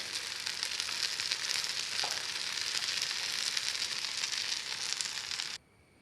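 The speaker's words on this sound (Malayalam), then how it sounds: "ഈ പാനിലേക്ക് നമ്മുടെ ചില്ലി എഗ്സൊക്കെ ഇട്ടു, ഫ്ലെയിം കൊടുത്തിട്ടുണ്ട്. ഇനി നമ്മളുടെ ഈ റൈസും കൂടെ ഇട്ട് കൊടുക്കാം." Rice tipped into a hot pan of chilli eggs sets off a loud, steady sizzle with fine crackling, holding evenly for several seconds before cutting off abruptly.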